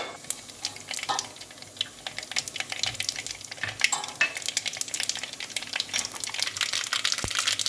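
Cumin seeds dropped into hot oil with mustard seeds for Jamnagar-style rasiya rice crackle and sizzle steadily up close, a dense run of sharp pops that continues throughout.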